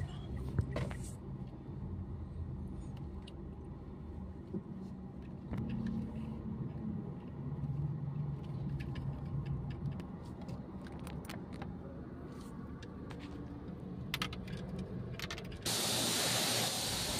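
A Mitsubishi Mirage G4 GLX sedan rolling slowly into a Mitsubishi dealership, with a low, steady road rumble and faint mechanical clicks, then a sudden loud hiss near the end.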